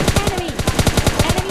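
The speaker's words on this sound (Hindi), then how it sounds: "तो भाई उतरते ही हमें आती है फायरिंग।" Rapid automatic gunfire from an AKM in the mobile battle royale PUBG Mobile Lite, a steady stream of loud close shots about a dozen per second with no pauses, alone without talk.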